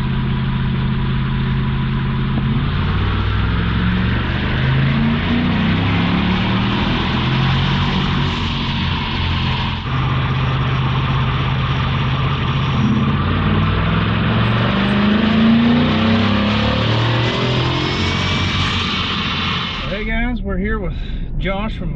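A supercharged 7.3L Godzilla V8 in a Super Duty truck running on a dyno, a loud, sustained engine drone with shifting tones that drops off abruptly near the end.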